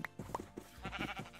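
Sheep in the video game Minecraft bleat in a few short, separate calls spread across a brief moment, fairly close and alone with no talk.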